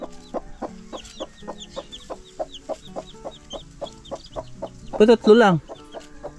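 A hen clucks in a steady rhythmic series while her three chicks peep in high thin chirps, ending with a louder squawking burst near the end; a voice speaks briefly.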